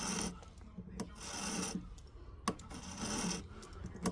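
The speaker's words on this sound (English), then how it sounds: "we're just lightly filing, we're not pushing real hard" A silver ring being filed very lightly to fit a new shank gives soft rasping strokes, about four or five close, even passes, each a brief gritty swish separated by short pauses and faint taps.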